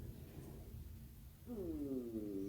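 A stomach rumbles in a quiet room, a low gurgling that swells into a rising, warbling groan over steady background hiss.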